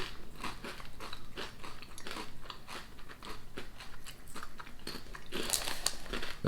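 Crunchy UK crisps, one with caramelized onion seasoning, bitten and chewed up close in a run of dry, crackly crunches with no talking.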